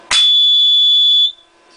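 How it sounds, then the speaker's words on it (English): A BA Electronics remote central locking system's sounder, powered at 24.2 volts, gives one loud, steady, high-pitched electronic beep lasting about a second after a sharp click. "you hear the sounder has got a prolonged beep to show that it's active"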